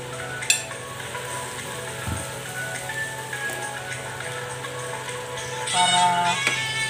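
Chicken liver dropped into a pan of simmering chicken adobo, frying with a steady soft sizzle, a light tap of a utensil early on and a brief louder stirring scrape near the end, with no talking.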